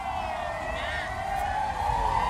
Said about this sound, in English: we can hear sirens in the background now